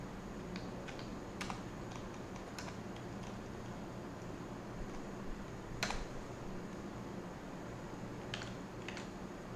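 A computer keyboard is typed on in scattered, faint clicks and taps over a steady low room hum, with no speech.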